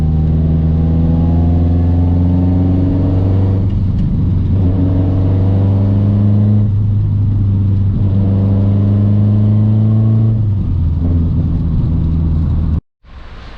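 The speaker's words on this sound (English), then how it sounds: "The turbo does sound cool. I'll give you guys a little pull." A Nissan Silvia S14 turbo engine pulling hard, loud and close from inside the car, with steady rising engine drone and brief dips between gears, ending in an abrupt cutoff.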